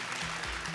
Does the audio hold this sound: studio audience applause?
yes